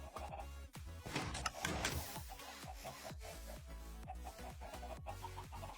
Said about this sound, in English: Oh, I can hear them. We still have chickens in a hole.